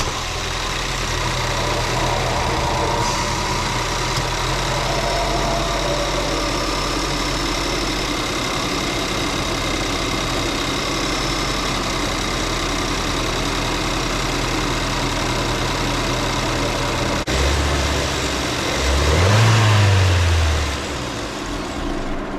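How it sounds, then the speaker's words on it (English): A Ford Fusion (Mondeo) 1.6 EcoBoost engine idles steadily at close range after an oil change, a low continuous rumble with a brief rise in revving near the end. "After I turn on the engine for a few seconds"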